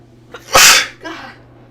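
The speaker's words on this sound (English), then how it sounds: "God, I hate sneezing" A single loud, close sneeze bursts out after a small sharp intake of breath, followed by a softer trailing exhale.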